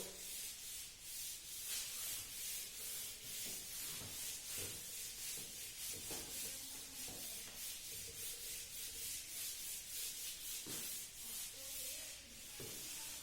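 Writing being rubbed off a board with repeated back-and-forth strokes, a continuous scratchy rubbing rhythm lasting over ten seconds, fairly quiet and close, with no talking.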